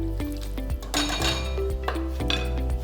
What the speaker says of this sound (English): Give this a stir so we can taste it.